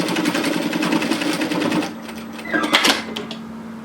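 A sewing machine stitches a knit teddy jacket in a rapid, loud mechanical whir that stops partway, followed by quieter handling clicks and rustles.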